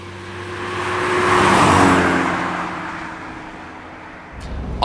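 A 1972 Audi 100 Coupe S engine fires up and settles into a steady, close idle that swells and fades slowly, with a clunk near the end.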